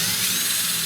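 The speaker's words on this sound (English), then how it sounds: "When I start drilling" A power drill whirs steadily and loudly while drilling into a wood workpiece, a continuous high motor whine with no pauses.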